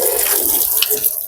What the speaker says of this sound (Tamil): ஹோஸை வச்சு வண்டி ஃபுல்லாக வாஷ் பண்ணிக்கணும்